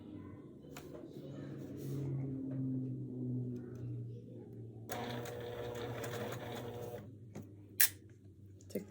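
A sewing machine runs slowly while stitching a Tula Pink butterfly quilt block, with a steady low mechanical hum and whir, a brief louder busier stretch midway, and a sharp click near the end.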